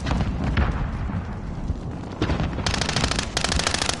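Dense gunfire in a first-person shooter video game, with loud continuous automatic bursts and booming impacts packed together over four seconds, heard up close without speech.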